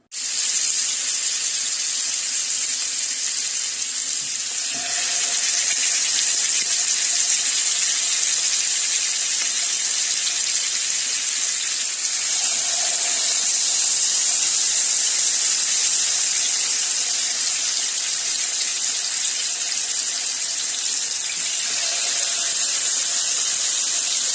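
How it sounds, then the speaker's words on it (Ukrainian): Chicken drumsticks sizzle and hiss steadily in a hot frying pan, a constant bright crackling that stays even throughout without any talking. "а зараз викладемо на сковорідку і підсмажимо."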